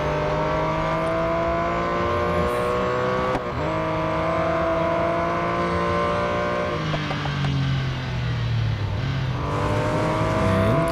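A Porsche 959 engine in Real Racing 3 howls at high revs through a race at Le Mans, with gear changes breaking up the steady snarl and pitch shifting as the car brakes and accelerates, no voices present.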